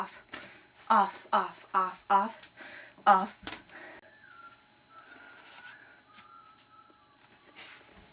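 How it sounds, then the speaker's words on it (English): Several short bursts of talk give way to a thin, steady whistled tone that wavers slightly in pitch and fades out. "They're whistling."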